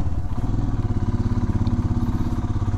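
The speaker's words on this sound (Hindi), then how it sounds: "राहुल भाई आ रहा है बाइक लेके" A motorcycle engine runs close by with a steady, rapidly pulsing thump as the bike rolls up, loud and continuous throughout with no talking.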